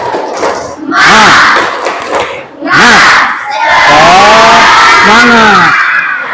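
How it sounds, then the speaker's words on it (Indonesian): A class of students performs a 'tepuk semangat' clap-and-shout chant, loud group voices shouting in unison in two bursts, then a longer sustained crowd shout with rising and falling pitch. "coba tepuk semangat"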